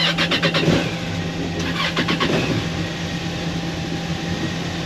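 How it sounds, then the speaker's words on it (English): Twin boat engines crank and catch in an enclosed engine compartment, with a few rapid starter pulses, then a steady loud idle rumble with fans running, close and alone. "Let's fire up the engines."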